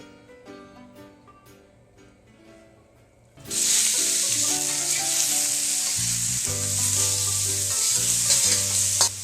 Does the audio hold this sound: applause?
no